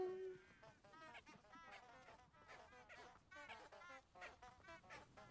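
A chicken in the Hogwarts Legacy video game clucks repeatedly in quick, faint squawking bursts against quiet background ambience.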